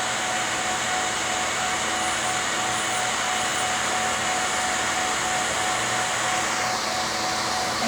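A SheMax nail dust collector runs with a steady, loud whooshing suction hiss and a faint tonal hum, constant and unchanging throughout, close by with no talking.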